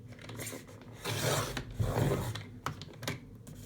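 Paper or card for a junk journal is cut close to the microphone: two drawn-out rasping strokes are followed by a few short scrapes, all fairly quiet and with no talking.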